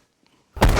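Antique cannon firing: after a near-silent moment, a sudden massive boom bursts in at full loudness and rings on to the end, close and overwhelming.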